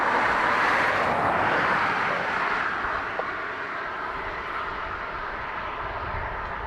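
A Ryanair jet lining up on the runway at Dublin Airport, its engines producing a steady broad roar and whine heard from a distance, gradually easing slightly.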